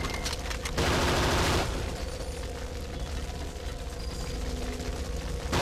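Gunfire and blasts from the video game Agent Under Fire, a continuous dense barrage of shots and explosions, loudest in a burst near the start, no talk.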